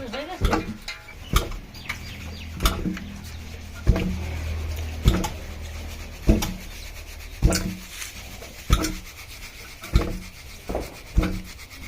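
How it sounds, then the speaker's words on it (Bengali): Rice is pounded into flour in a wooden dheki, a foot-operated husking lever, for winter pitha: heavy rhythmic thuds land roughly every second, close by over a bed of rubbing and scraping, with faint voices in the background. "ঢেকিতে মানে গুঁড়ো করা হচ্ছে"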